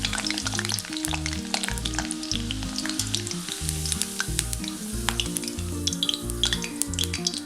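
Potato French fries, cut as finger chips, frying in hot oil with a steady, dense sizzle and bubbling throughout, close and moderately loud, alongside rhythmic low stirring or scraping pulses and no talk.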